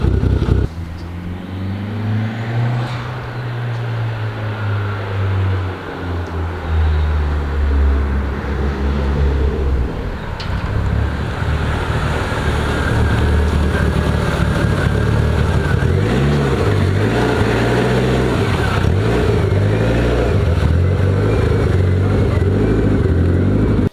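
Several cars brought out for spring idle and rev nearby, low engine rumble chugging unevenly with rising and falling revs and steady throttle blips, loud and continuous throughout.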